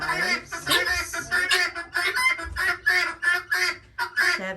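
Guinea fowl calling loudly and repeatedly at close range, a dense run of harsh, rapid cries with no pauses, no talk in between.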